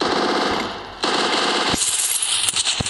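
Rapid automatic gunfire rattles in the video game Free Fire, loud and close, with a few sharp single shots cracking through toward the end.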